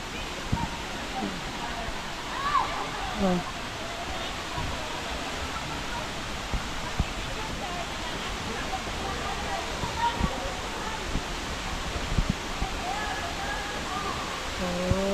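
Steady broadband rush of a waterfall in a forest on Camiguin Island, a continuous dense roar of falling water that stays even and close from start to finish, with faint scattered voices and bits of activity underneath.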